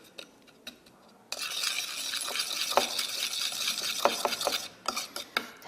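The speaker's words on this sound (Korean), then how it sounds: "이렇게 7가지 양념을 잘 넣어서 설탕이 녹을 수 있도록 좀 저어줍니다" A spoon stirring a seven-ingredient seasoning sauce with sugar and sesame oil in a bowl for bibimbap, scraping and clinking steadily after a few quiet taps, close and clear, with no talking.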